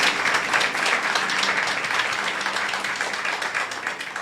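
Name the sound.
congregation applauding in church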